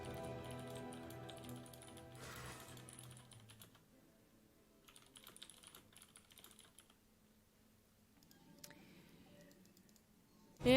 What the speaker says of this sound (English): clickety-clack the keyboard